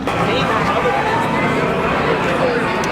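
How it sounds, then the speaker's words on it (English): Dense crowd chatter fills a busy pub tent at the Sun 'N Fun airshow around midday, a steady, loud babble of many overlapping voices close by with no single speaker standing out. "Look how busy the pub is."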